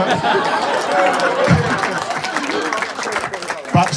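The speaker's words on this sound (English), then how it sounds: "can I just have a round of applause for Lawrence, because he has put in a shift this week" Wedding guests at a best man's speech in New Zealand give a round of applause, a steady wash of clapping blended with crowd chatter throughout, with a few louder claps standing out.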